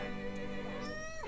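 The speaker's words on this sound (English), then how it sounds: "Yeah, meow." A cat meows once, a drawn-out, wavering call heard close and clear over a steady low background hum, with a brief falling tail at the end.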